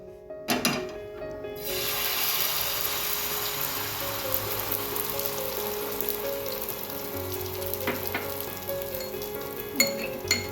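Two beaten eggs hit hot oil in a pan for an omelette and sizzle loudly at once, then settle into a steady close frying hiss with a few light scraping stirs near the end.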